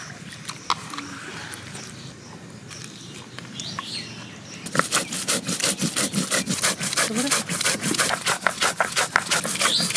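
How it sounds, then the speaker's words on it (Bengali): Ginger, cumin, black pepper and bay leaves are ground together on a stone. Soft, sparse rubbing at first gives way to a steady run of fast, rhythmic scraping strokes that stay close and fairly loud. "আদা, জিরে, গোলমরিচ, তেজপাতা একসঙ্গে বেটে নেব।"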